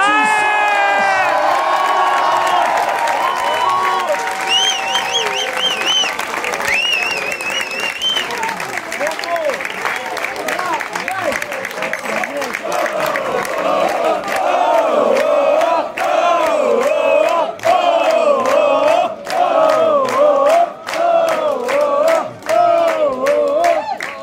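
A large crowd at a political speech applauds and cheers loudly, with whoops and shouts, settling into rhythmic clapping toward the end.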